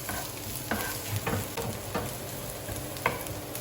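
Onion and garlic fry in a pan for chicken asado, giving a steady close sizzle broken by a few sharp clacks of a utensil stirring and scraping. No voices.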